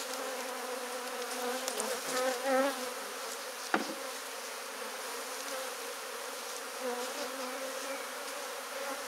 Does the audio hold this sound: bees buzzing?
yes